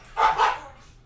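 Dogs in the house bark twice in quick succession, moderately loud and close, then fall quiet.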